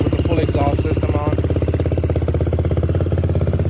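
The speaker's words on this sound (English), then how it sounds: "It's super freaking loud with the full exhaust system on." A Yamaha YFZ450R ATV with an HMF full exhaust idles loud and close, a rapid, even, throbbing thump with strong low rumble running throughout.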